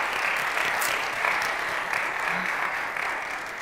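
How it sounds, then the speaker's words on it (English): An audience at an educational equity community forum applauds panelists, a steady, fairly close round of clapping with a few louder claps, fading slightly at the end. "Can we just give one more round of applause to them?"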